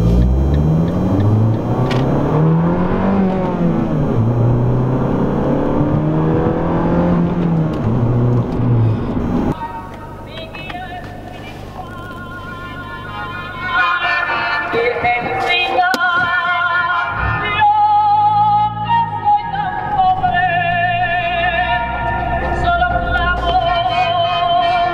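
A small, quick car drives at a Chicago car meet, its engine whirring and revving in the second half after a stretch of loud music, with the rumble rising and falling up close.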